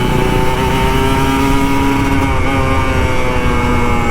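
An older Kawasaki Ninja RR 150 two-stroke motorcycle engine revving loudly up close, a raspy, buzzing note held steady with slight pitch shifts, with no talking.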